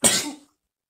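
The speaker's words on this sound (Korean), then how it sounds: "이건 잘못된 재채기의 습관입니다" One short, sharp sneeze bursts out close to the listener and cuts off abruptly into silence.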